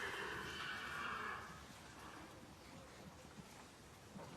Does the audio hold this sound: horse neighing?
yes